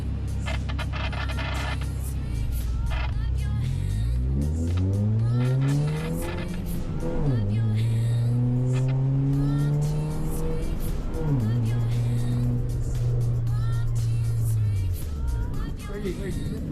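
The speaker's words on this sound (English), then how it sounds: "accelerate to 80 kilometers per hour, then slam on the brakes to stop the car" A Toyota car engine revs up with a rising pitch toward 80 km/h, then drops abruptly as the car brakes hard, twice in a row, with tire noise and loud continuous engine sound, at a racing school.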